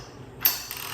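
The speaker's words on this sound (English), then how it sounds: "and then this 19mm nut, and now you have to tighten them." A wrench tightens a 19mm nut during assembly of a DeWalt portable miter saw stand, giving a brief, close metallic ratcheting click burst that rings out, with no talking.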